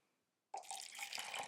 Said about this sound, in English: pour a little there, a little there, a little there.